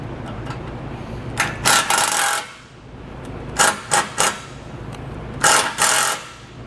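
A self-tapping screw is driven into a vehicle's bumper beam with a power driver, heard as three close, fairly loud bursts of whirring and rattling separated by short pauses.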